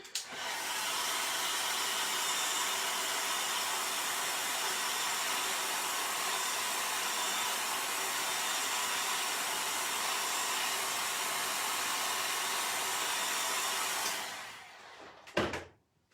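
A hair dryer blows a steady, loud broadband airflow for about fourteen seconds while it dries chalk paint on wood, then winds down and cuts off near the end.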